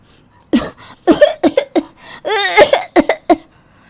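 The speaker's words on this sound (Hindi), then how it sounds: "वो जानबूझकर ज़ोर ज़ोर से खांसने की एक्टिंग करना शुरू कर देती है" A string of loud, close, exaggerated coughs, some in quick bursts with a drawn-out throaty cough in the middle, sounding deliberately put on.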